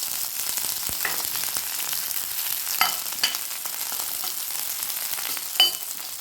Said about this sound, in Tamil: ஒரு 2 நிமிஷம் வெங்காயத்தை வதக்கிக்கோங்க